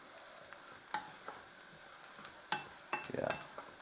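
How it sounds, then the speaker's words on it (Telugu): Onion and green chilli tempering fry quietly in a pan, with a soft low sizzle broken by a few sharp scraping stirs and a brief louder rattle near the end. "ఆనియన్ మిర్చి తాలింపు వేసేసాం కదా"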